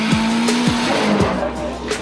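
Compact race cars tear around the Montreal Sanair Raceway at the season's biggest compact car event, with loud, sustained tire squeals sweeping over a constant roar of engines and no talk.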